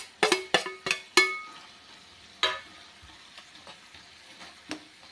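Ground peanuts are stirred into a cluster bean curry, heard as a series of sharp spoon-on-pan clinks and scrapes over a quiet sizzle, with a few more knocks spaced out afterward.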